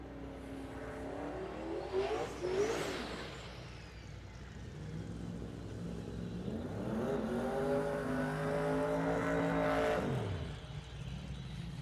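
Street-class drag race cars launch and accelerate down The Strip at Las Vegas Motor Speedway, engines rising in pitch in two surges, heard at a moderate distance and fairly quiet overall.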